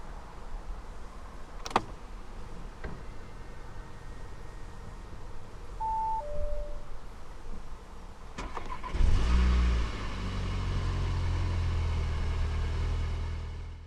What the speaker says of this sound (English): to start the Q3, put your foot on the brake, insert the key into the slot right here